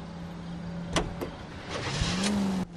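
Driving in the video game L.A. Noire, a car in motion with a steady low engine hum, a couple of sharp clicks or thumps, and a rising whine near the end before an abrupt cutoff.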